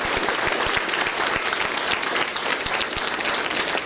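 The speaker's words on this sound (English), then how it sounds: "and I want you to give them a round of applause." At an eighth grade recognition ceremony in a middle school, a large audience applauds parents and guardians: loud, dense, sustained clapping with occasional sharp individual claps standing out, continuous from start to finish.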